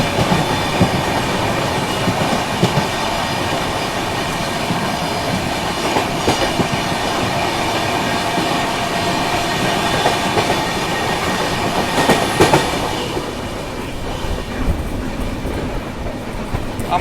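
An Amrit Bharat train and a Vande Bharat train pass each other on Indian rails, a loud, steady roar of wheels and carriages with rhythmic clickety-clack and brief squeals, close by and sustained throughout.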